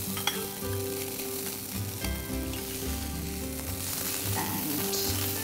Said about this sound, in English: To this, I'll add about 1 cup of cooked rice.